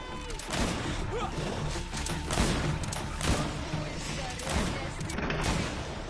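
Rapid bursts of gunfire and heavy impacts in the GreedFall video game, dense and loud over a busy combat soundscape, with a voice speaking faintly underneath.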